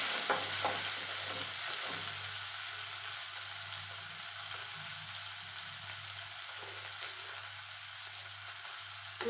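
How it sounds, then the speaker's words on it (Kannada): Tomato added to onions frying in a pan for kadale bajji, giving a steady loud sizzle with light stirring scrapes throughout, no voices. "ಒಂದು ಟೊಮೆಟೊ ಹಣ್ಣನ್ನು ಇದಕ್ಕೆ ಹೋಗಿ"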